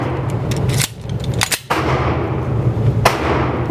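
A Glock 19 compact 9mm double-stack pistol fires at a shooting range: three or four loud, sharp reports spread over a few seconds, each with a short ring-out over steady range background noise.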